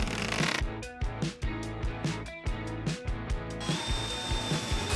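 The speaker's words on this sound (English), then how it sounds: "I then proceeded to drill over 200 holes." A power drill whirs in rapid repeated bursts, close and loud, biting through pegboard again and again without any voices.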